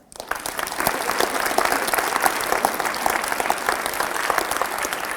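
Sustained applause from a high school assembly audience, dense and steady after a quick swell, filling the room for several seconds with no talking over it.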